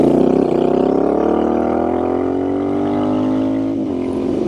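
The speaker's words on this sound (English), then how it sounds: "I found this bike to handle on pavement superbly with these Scorpion tires." A Royal Enfield Scrambler 650 motorcycle on Scorpion tires cruises on pavement. Its engine gives a loud, steady hum that climbs gradually in pitch under acceleration, then dips briefly near the end.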